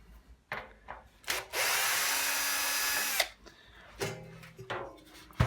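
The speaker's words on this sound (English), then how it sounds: "The last thing to do on this is to unscrew a couple of screws here." Power drill unscrewing screws from an LG direct drive washing machine drum, a few short whirring bursts and one sustained buzzing run of about two seconds, close and clear with no talk.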